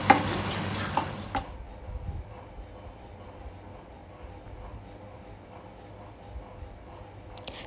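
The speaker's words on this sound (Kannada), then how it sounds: "ಅದನ್ನು ಹಸಿ ವಾಸನೆ ಹೋಗೋ ತನಕ ಫ್ರೈ ಮಾಡಿಬಿಟ್ಟು" Sweet jackfruit paste frying in a pan gives a loud, bright sizzle for about a second, then drops abruptly to a faint, low crackle that lingers quietly to the end.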